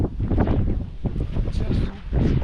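Strong wind batters the microphone at a hill viewpoint at BR Hills, Karnataka, roaring loud and continuous with gusty surges, while a voice speaks faintly underneath.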